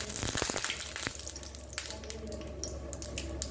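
Bay leaf and dried chillies hit hot oil, a crackling sizzle with sharp pops at the start settling into a fainter steady spitting hiss.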